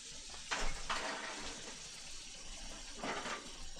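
Water runs from a tap to soak fabric before hand dyeing, a steady quiet splashing stream with a few louder gushes as the cloth is moved under it.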